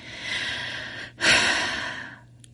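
Slow, deliberate breaths sound close to the microphone: a long airy exhale, a brief pause, then a fuller inhale-exhale that fades out.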